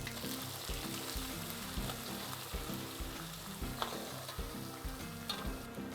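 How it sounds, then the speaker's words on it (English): Ground masala for Kafuli saag sizzles in a hot pan, a steady close frying crackle under a repeating musical backing, with occasional stirring clinks. "And now we are adding this masala which we made in the mortar and pestle"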